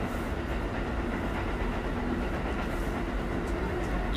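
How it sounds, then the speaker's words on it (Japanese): Steady rumbling roar from inside a moving train, with constant low rattle and faint rhythmic track clatter running unbroken throughout, close and loud. "今電車の中でね"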